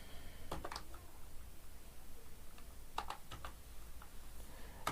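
Faint clusters of computer keyboard keystrokes as a simple C program is typed, with short bursts of clicks separated by pauses over a steady low background hum.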